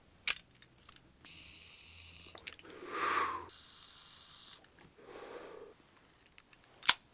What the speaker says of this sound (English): I could definitely see myself clicking this thing all day long and annoying the crap out of everyone around me